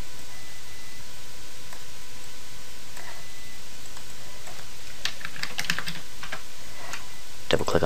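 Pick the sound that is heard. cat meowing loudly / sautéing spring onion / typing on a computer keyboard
typing on a computer keyboard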